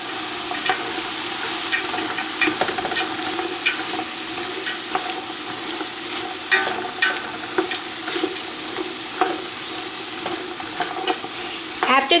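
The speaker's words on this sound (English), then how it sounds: "add your carrots, celery, and onion. And give that a good mix in." Browned beef cubes being stirred together with carrots, celery and onion in a soup pot, giving a steady sizzle with repeated scraping and clattering stirs throughout, close and fairly loud, with no talking.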